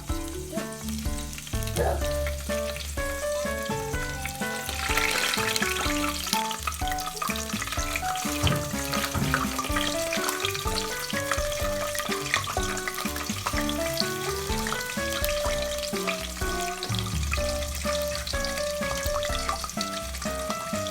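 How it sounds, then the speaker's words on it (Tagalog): Hot oil poured over crispy pork belly, giving a loud, steady crackling sizzle that runs continuously throughout, with music playing underneath. "At pagkatapos nating binuhusan ng mainit na mantika"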